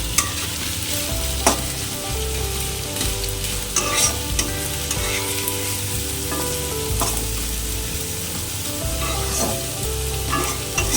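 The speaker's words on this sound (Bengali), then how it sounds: "আর হাই ফ্লেমেই ভাজবো আমি পেঁয়াজটা।" Onions frying in hot oil over a high flame for chicken biryani: a loud, dense crackling sizzle throughout, punctuated by regular sharp spatula scrapes and knocks against the pan, with no speech.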